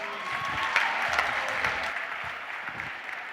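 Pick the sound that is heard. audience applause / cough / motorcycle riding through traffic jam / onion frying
audience applause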